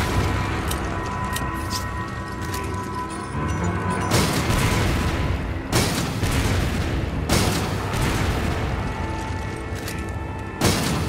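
Several loud booms from grenade blasts in Resident Evil 5 punch through a steady backdrop of combat noise, each a sharp close crack rolling into a brief rumble, spaced a few seconds apart.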